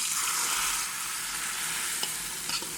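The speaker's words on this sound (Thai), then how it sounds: "แล้วก็เทไข่ลงไปได้เลยค่ะ" Beaten egg poured into hot oil in a small pot for a crispy, fluffy cha-om omelette, sizzling and frying in a steady broad hiss throughout, with a couple of faint stirring clinks near the end and no talk.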